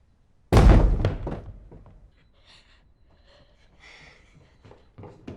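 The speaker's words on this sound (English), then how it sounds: "There were these loud bangs all over the walls." Loud bangs on the walls in a haunted house drama: one sharp, heavy thud opens, followed by a decaying rumble and a few faint knocks and rustles in a quiet room.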